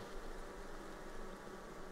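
Honey bees hum steadily around a hive frame coated with honey and pollen, a continuous close buzzing drone with no speech over it.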